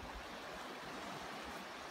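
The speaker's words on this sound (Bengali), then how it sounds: "এইখানে নদী বয়ে চলেছে" River flowing near an open field, heard as a steady, faint, even rush of water with no other sounds on top.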